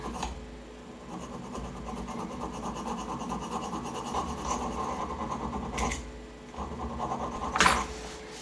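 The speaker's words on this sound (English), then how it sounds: "Now I change to some small files." Small hand files are worked over a metal grinding wheel adaptor, making a steady, fairly quiet rasping scrape with a brief sharper scratch near the end.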